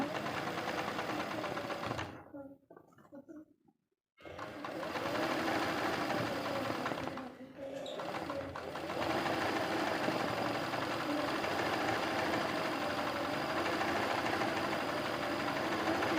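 A sewing machine runs steadily while stitching a simple leaf embroidery design in rice stitch, a loud continuous whir that stops briefly twice before carrying on.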